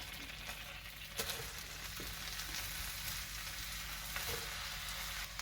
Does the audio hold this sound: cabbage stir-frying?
yes